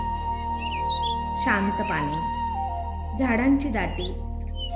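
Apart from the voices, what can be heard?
birds chirping at a lake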